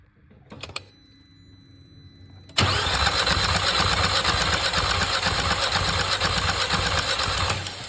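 A failing Skoda Octavia 1.8 TSI engine cranks and sputters briefly, then catches and runs with a loud, rough, uneven rattle that carries on steadily.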